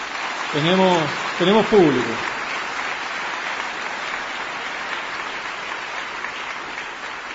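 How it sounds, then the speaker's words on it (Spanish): A debate audience applauds Claudia Bobadilla, a moderate, steady patter of clapping that runs through the clip, while someone speaks briefly over it near the start. "volviendo a aplaudir a Claudia Bobadilla"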